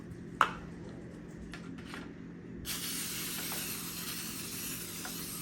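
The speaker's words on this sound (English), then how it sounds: "We can use this one to spray it." A can of cooking spray hisses steadily onto a small baking pan before brownie mix goes in, a continuous close spray lasting a few seconds after a sharp tap and some quiet rustling.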